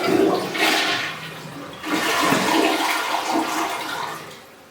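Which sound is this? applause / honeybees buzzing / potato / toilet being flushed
toilet being flushed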